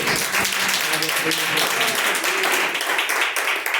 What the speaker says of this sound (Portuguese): Palmas para o nosso Deus.